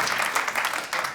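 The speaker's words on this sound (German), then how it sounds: "Dass jemand hinten macht, hey, und ein paar anfangen zu klatschen" A live audience at a Swiss morning comedy show breaks into scattered clapping, a short, loose patter of hands in a room, heard on its own without talk.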